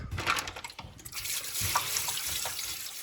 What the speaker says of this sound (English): rinse it well. Rinse, rinse, rinse. Loads of fresh water.